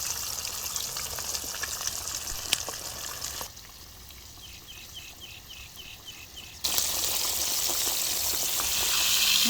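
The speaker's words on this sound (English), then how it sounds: "Now I have to fry a body fish." Sea bass frying in hot oil for a Thai dish, a continuous crackling sizzle that drops quieter for a few seconds in the middle, then returns louder and brighter.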